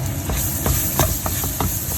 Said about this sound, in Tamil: இப்போ வந்து இந்த நறுக்கி வச்சிருக்க வெங்காயத்தை போட போகிறேன்